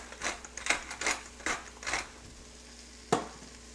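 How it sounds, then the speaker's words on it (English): Seasoned vegetables being stirred in a soup pot for a simple vegetable soup with ravioli, heard as a series of soft scraping strokes in a steady rhythm, then a pause and one last sharper stroke, close and fairly quiet. "And I'm going to stir that in."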